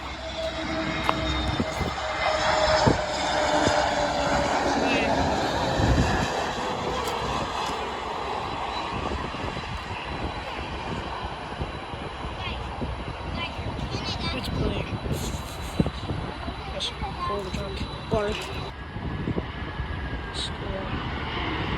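An Air Canada airliner at Miami International Airport produces a loud, sustained jet engine roar that fills the whole stretch, steady and close. A voice speaks briefly over the noise.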